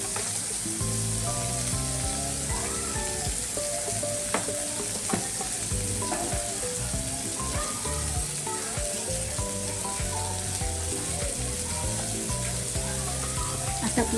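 Bitter gourd pieces shallow frying in oil in a pan, a loud continuous close sizzle with occasional stirring scrapes and no talking.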